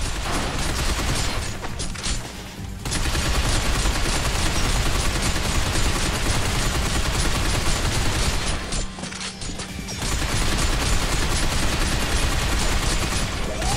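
Nearly constant heavy automatic gunfire in the shooter video game Binary Domain, a dense loud barrage with two brief lulls, with no talk over it.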